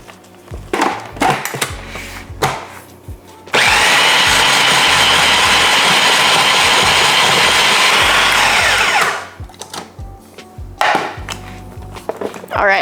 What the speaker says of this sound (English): you need to keep mixing and add more soy milk